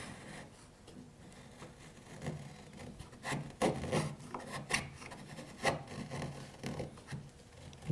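A chisel pares pine back to a scribed line in a series of short scraping, rasping strokes, close and fairly quiet, irregular in rhythm, with no talking.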